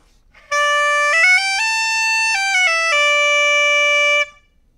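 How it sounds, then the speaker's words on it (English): A bombarde, a loud French double-reed instrument, sounds alone in a bright, piercing sustained phrase of a few stepped notes lasting about four seconds. "This instrument right here is a bombarde, which is this insane instrument from France that sounds like this."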